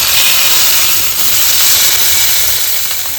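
Butter dropped into a hot kadhai for making ghee gives off a loud, steady, hissing sizzle that carries on unbroken, close up and with no talk.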